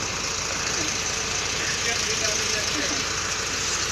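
Boat engine idling steadily at Punta Fuego, Nasugbu, Batangas, a constant loud drone with wind and water noise and people talking faintly nearby.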